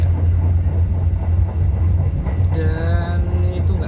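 Kutojaya Selatan economy passenger train on the Kutoarjo–Bandung run, heard from aboard after departing Rajapolah station: a loud, steady low rumble of the moving carriages, with a whining tone rising near the end.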